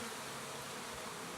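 Honey bees swarming over a frame lifted from a hive, a dense, steady buzz that stays loud and constant throughout.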